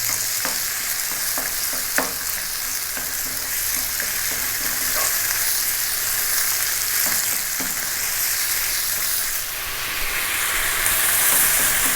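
Beef and ginger stir-fry, tossed in a hot pan, with a steady loud sizzle of frying and occasional clanks of the utensil against the pan, no talking.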